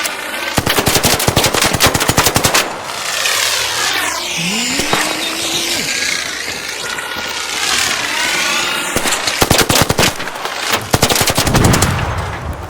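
Gunfire in the video game ARC Raiders: loud bursts of rapid automatic fire, with a lull in the middle filled by a sweeping mechanical whine, then more dense volleys of shots.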